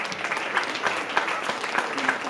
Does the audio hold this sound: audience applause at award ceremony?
yes